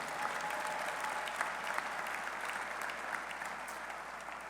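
An audience at an introductory college football press conference gives a round of applause for staff members. The clapping is steady and moderately distant, with no voices over it, and slowly tapers off toward the end.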